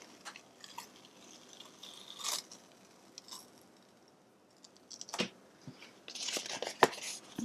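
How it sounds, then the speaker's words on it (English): Paper peels slowly off a gelatin printing plate with faint, sticky crackles and a few sharper tearing bursts spread over several seconds, close and quiet. "we're going to peel back the paper."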